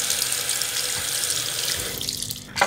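Tap water runs steadily into a sink as a bar of soap is wetted for brush cleaning, a close, continuous broadband splash that cuts off abruptly near the end.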